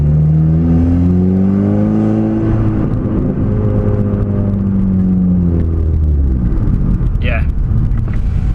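A Seat Leon Cupra Mk2 with a loud aftermarket exhaust drones and rumbles steadily while driving, the engine note rising and easing close by, with a voice speaking over it.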